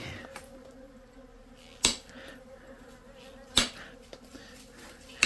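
Bees near their hive make a faint, continuous buzz, broken by a few sharp clicks or taps, with no talking.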